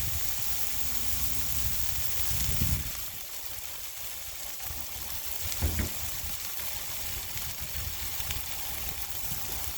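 Ham, pineapple, peas and carrots sizzle steadily on a Blackstone griddle, a continuous close hiss with a couple of brief louder bursts of spatter.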